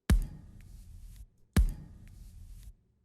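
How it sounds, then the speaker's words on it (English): Two separate thuds from a wooden bed being struck, shaped with EQ into a kick drum sample; each hit lands with a sharp, boomy attack and a short woody ring, fairly quiet and close. "The kick drum took a while to get because it's just me hitting a wooden bed."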